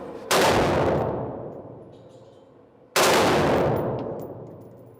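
Two loud, close gunshots from a firearm fitted with a Rare Breed trigger in single-shot mode, each a sharp blast followed by a long decaying echo, spaced about two and a half seconds apart outdoors.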